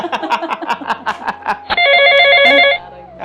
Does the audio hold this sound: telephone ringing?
yes